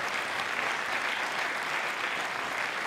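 Theatre audience applauding in Modena after a municipal band's concert, a dense, steady wash of many hands clapping that holds at full strength throughout.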